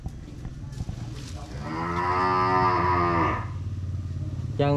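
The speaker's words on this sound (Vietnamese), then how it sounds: "Hai con bò cái lai xin." Crossbred Sind cows on a farm give one long, loud, drawn-out moo close by, with a lower rumble of background noise and a brief sound at the end.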